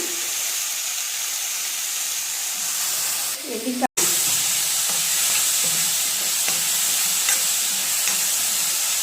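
Turkey berries and onion frying in oil in a pan for a Tamil tangy curry, a steady close sizzle with stirring scrapes, one brief sharp knock midway, no talking.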